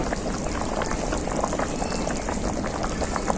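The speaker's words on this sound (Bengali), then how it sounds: "এরপর আমি ঝোলটাকে খুব ভালো করে ফুটিয়ে নেবো" Khoira fish curry broth boiling hard in a pot, a loud continuous bubbling roar with dense popping that stays steady throughout.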